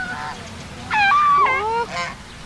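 Goose or duck at Avilon Zoo giving a few loud nasal honks in quick succession, close by, over light background crowd murmur.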